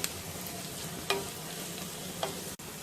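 Spices fry in a pan with turmeric just added for a drumstick leaf and coconut curry, a quiet, steady sizzle broken by a few faint taps of the stirring spoon.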